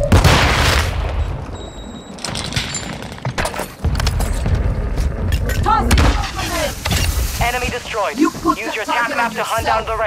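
Rapid gunfire and explosive bursts from a Warzone 2 firefight rattle loudly and almost without pause, with game voice callouts speaking over the combat.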